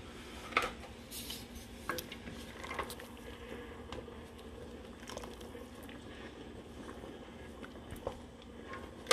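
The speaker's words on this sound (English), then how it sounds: "I'm going to add the penne here. And I am going to stir" Penne pasta stirred in a pot of rapidly boiling water: faint scattered clinks and scrapes of a utensil against the pot over a soft, bubbling background, quiet and irregular.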